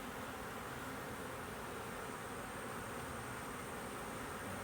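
Honey bees around an open hive during splitting and queen-cell removal, a faint, steady, even buzz of many insects with no pauses or talk.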